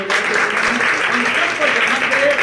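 A church congregation claps steadily in a dense wash of applause, with voices audible beneath it.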